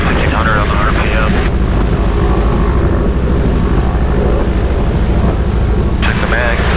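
A 1935 Waco biplane's radial engine runs up to about 1500 RPM, a loud steady drone throughout with a voice heard over it.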